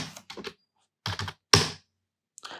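A person's name is typed on a keyboard in short bursts of close, crisp key clicks separated by brief pauses, with no one speaking.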